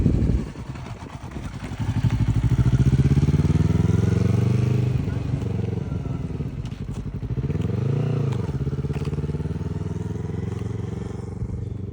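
A learner rides a motorcycle during a beginner riding lesson, the engine's note rising and falling close by as the bike pulls away and circles, continuous throughout.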